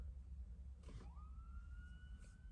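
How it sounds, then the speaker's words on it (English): A police siren wails outside, rising into a steady sustained tone, faint and distant beneath a low rumbling background. "Then you heard the sirens, bro."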